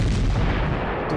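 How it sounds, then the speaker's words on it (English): Anti-aircraft cannon firing in the wartime strategy game Panzer Corps, a loud, dense burst of booming fire that fills the whole moment. "this is a green anti-aircraft cannon"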